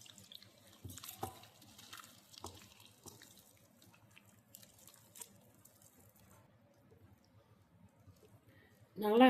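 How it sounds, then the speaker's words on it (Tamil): Water poured into a bowl of wheat flour and rice flour batter and stirred for fritters, with running, splashing and dripping sounds at close range that thin out before a louder burst at the very end. "இப்போ தண்ணி ஊற்றி கரைக்கலாம். தண்ணி ஊற்றி நல்லா கரைச்சிக்கலாம்."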